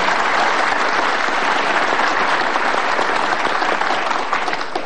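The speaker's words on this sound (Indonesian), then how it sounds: "Tepuk tangan luar biasa." Dense, steady audience applause fills a talk-show studio, loud and unbroken from start to finish with no voices rising above it.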